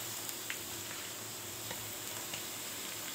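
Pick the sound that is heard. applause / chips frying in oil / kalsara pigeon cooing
chips frying in oil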